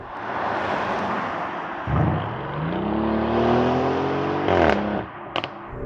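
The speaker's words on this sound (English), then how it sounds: "Backfires, nice predictable backfires, but they're not like super repetitive." A 2025 Lamborghini Urus SE revs inside a tunnel, the engine note rising steadily and echoing off the walls, cut by a couple of sharp popping backfires near the end.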